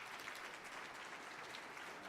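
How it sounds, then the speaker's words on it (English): Audience applause for a conference speaker: a dense, steady wash of many hands clapping together, sustained evenly at moderate loudness with no talking over it. "let's give a round of applause for Joyce"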